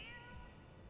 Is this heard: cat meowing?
yes